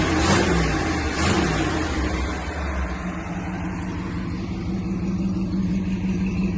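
A 1954 Ford F-100 pickup fitted with a bone-stock Oldsmobile engine runs nearby, its steady low motor rumble holding throughout with a slight rise in revs at the start and no talk.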